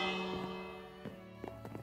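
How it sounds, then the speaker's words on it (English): A ship's bell rings on the bridge of a small oceangoing vessel, with a long sustained tone decaying at the start and a few lighter strikes later, fairly faint with room ambience. "there's the ship's bell"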